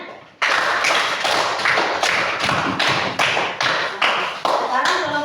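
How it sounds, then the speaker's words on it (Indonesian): Classroom applause, hands clapping in rapid bursts with short dips between them, loud and close, beginning abruptly after a brief quiet start. "Ya, tepuk tangan."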